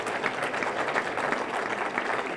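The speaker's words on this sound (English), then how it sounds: "That's a round of applause right there" A crowd at a community celebration applauds a high school runner with dense, steady clapping that sounds full and fairly loud throughout.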